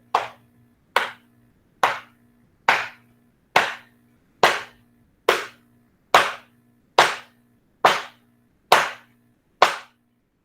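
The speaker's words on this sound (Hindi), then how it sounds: "अगर हम 5 मिनट ये ताली बजा दें" Hands clapping in a slow, even rhythm for an evening aarti at home, about twelve sharp, close claps roughly a second apart, each ringing briefly in a quiet room.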